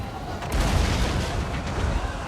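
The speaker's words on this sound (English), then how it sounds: "And the Hell Cannons hit hard, folks." Hell Cannons in the Total War Warhammer 2 battle fire amid a dense, rumbling barrage of artillery and rocket booms, loud and continuous with heavy low-end thuds layered over each other.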